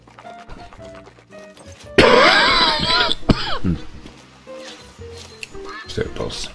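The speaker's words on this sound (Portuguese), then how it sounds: "Isto é tosse." In a hunting game set in Yukon Valley, a loud, harsh cough bursts out over spoken commentary, followed by a couple of rougher throaty rasps before the talking resumes.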